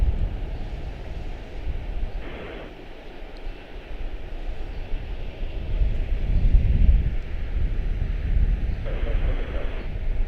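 An Etihad jet airliner roars on takeoff at Charlotte-Douglas International, a broad low rumble heard from a distance that builds steadily, with wind buffeting the microphone and brief radio chatter over it.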